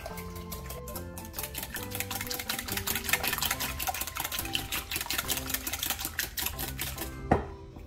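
Fast rhythmic whirring and clattering of a mixer beating milk into a wet batter mix for bread pudding waffles, steady and close, ending with a brief clunk.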